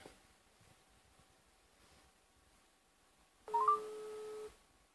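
A telephone call being redialed: faint room rustle, then a short, loud burst of dialing tones, about a second long, with no talk.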